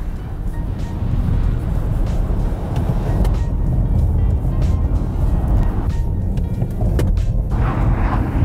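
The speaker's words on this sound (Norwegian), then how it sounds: "Jeg tenker å kjøre ganske høy hastighet mot noen kjegler for å så nødbremse" A car speeds up to about 80 on an ice track before an ABS emergency-braking test toward cones, giving a loud, continuous engine and road roar with wind noise that holds steady throughout.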